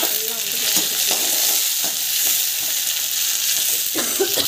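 Onion, green chillies, chana dal and urad dal sautéing in a pan, a steady bright sizzle with occasional soft scrapes of stirring, close and continuous.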